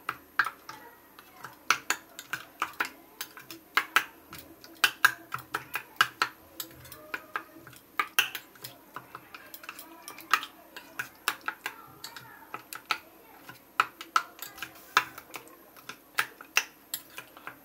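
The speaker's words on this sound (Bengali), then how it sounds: "এখন আমাদের একসাথে পেস্টটা ভালোভাবে মিশিয়ে নিতে হবে।" Egg momo filling paste is stirred in a bowl, producing quick irregular clicks and taps of utensil on bowl over a quiet background for the whole stretch.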